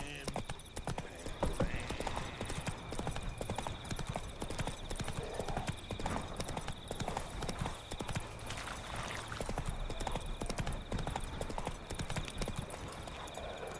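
Geralt's horse Roach gallops in The Witcher video game, a steady fast clip-clop of hooves running continuously at close range, with brief game dialogue over it.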